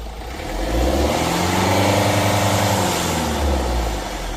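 A Mahindra Marazzo engine being checked for a low pickup problem is revved up to a loud, sustained roar and then allowed to settle back down.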